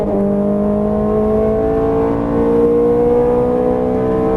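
A Ferrari 430 Scuderia engine pulls hard at full throttle on a track, its loud, steady mechanical whine climbing in pitch with a smooth upshift partway through, heard close and continuous with no talking.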